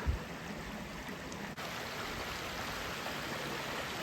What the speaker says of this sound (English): I'm guessing that is the top of the waterfall